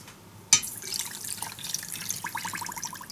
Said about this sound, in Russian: Давай, заливаем водичку.